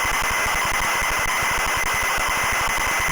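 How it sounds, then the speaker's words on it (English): Home computer game tape loading, a steady dense buzzing data signal with rapid rhythmic pulsing in the low end and constant high tones, loud and unbroken throughout. "This is the tape, this is the game tape loading."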